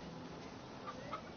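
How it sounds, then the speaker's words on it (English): A chicken in Far Cry clucks a few short, quiet times over a steady background hum. "Who let this chicken in here?"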